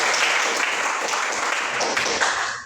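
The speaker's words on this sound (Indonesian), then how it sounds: "Mari kita beri aplaus untuk Tia." Classroom applause for a student named Tia: a steady patter of many hands clapping for a few seconds, fading out at the end.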